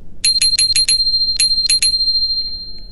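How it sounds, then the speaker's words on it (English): A scooter bell in the Melon Playground video game rings in a quick run of bright dings, then two more after a pause, clear and alone. "you guys should turn on the bell, just like Corn is doing right now on the scooter"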